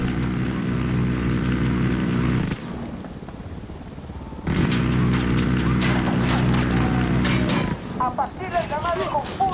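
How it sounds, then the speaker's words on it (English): An approaching helicopter in Ghost Recon Wildlands throbs and drones at a steady level, briefly dropping away mid-stretch, while gunfire and players' voices run over it. "Helicopter inbound."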